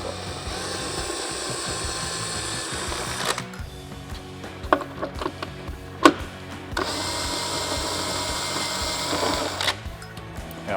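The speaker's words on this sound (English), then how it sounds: "We're going to take these top two bolts off" Top bolts being loosened from the headlight of a 2023.5-or-newer Harley-Davidson Road Glide, with a ratcheting power tool buzzing in two close bursts and scattered metallic clicks and clunks between them.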